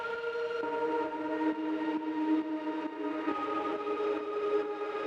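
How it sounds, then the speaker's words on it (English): A sustained synth pad from an Ableton preset holds soft, steady chords with slow shifts in tone, moderately quiet and alone without talk. "I added a pad that sounds like this."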